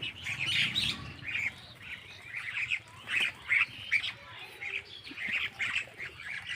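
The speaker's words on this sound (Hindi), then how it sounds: "कौआ आई है, कौआ से डरा हूँ।" Several harsh crow caws ring out near a tree branch in the open air, repeated in short bursts with brief gaps over faint background noise.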